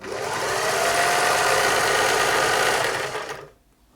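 A Singer 631G sewing machine stitches a wide satin-stitch diamond pattern, giving a loud, steady, fast mechanical whir for about three seconds before stopping abruptly into near silence.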